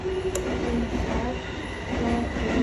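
Steady rumbling and rattling heard from inside a moving train, a continuous loud drone with faint wheel squeal and no talk.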